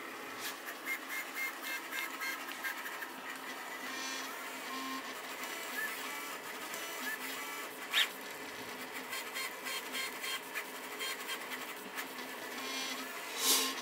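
A 3D printer fitted with a BLV MGN magnetic tool changer and a heavy original extruder head prints a Benchy at rapid speeds. Its stepper motors buzz and whir continuously, with sharp clicks, moderately close and with no speech.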